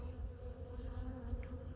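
Honey bees buzz in a low, continuous drone, a quiet swarm humming steadily nearby.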